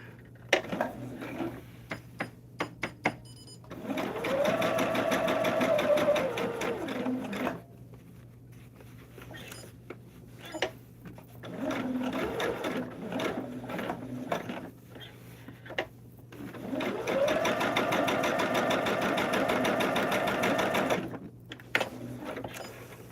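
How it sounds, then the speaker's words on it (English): A sewing machine bastes a log cabin hexagon table topper, running in three loud, close whirring bursts of steady stitching separated by quieter pauses and occasional clicks. "let me go ahead and do some basting"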